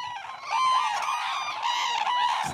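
Japanese cranes call in the snow on Hokkaido during the courtship season, loud overlapping trumpeting honks close by, rising and falling over a few seconds with no talk.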